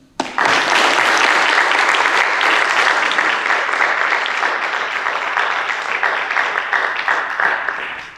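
An audience applauds a guest speaker being introduced at a lecture on Catholic political thought, a dense, sustained wash of clapping from many hands that starts abruptly and holds steady for about eight seconds, tapering slightly at the end.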